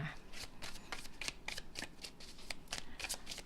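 A deck of tarot cards is shuffled over and over for a love reading, producing a rapid, continuous run of crisp papery riffles and flicks up close, with no voices.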